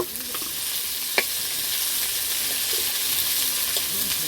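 Onion and chili sizzling in hot oil for chowmein, a steady broadband frying hiss with occasional stirring clinks and scrapes, close and continuous with no talk.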